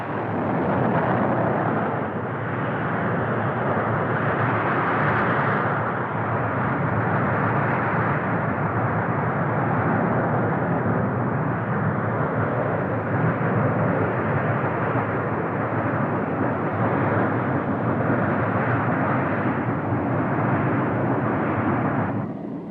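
An F-14 Tomcat jet in flight, a loud, continuous broadband roar that holds steady for the full stretch with only slight swells and no clear pass-by peak.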